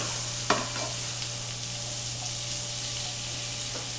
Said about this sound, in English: I'm going to go ahead and put my onions in.